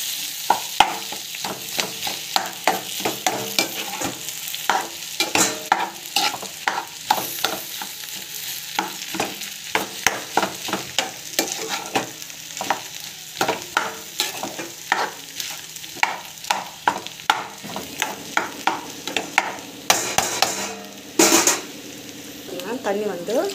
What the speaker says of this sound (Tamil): இது பார்த்திங்கன்னா ஜஸ்ட் வந்து நல்லா வந்து வதக்கிட்டுருக்கோம்